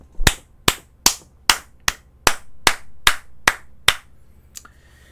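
An audience in a lecture hall claps at a seminar, giving about ten sharp, evenly spaced claps that sound like a small group in unison, close and crisp, followed by quiet.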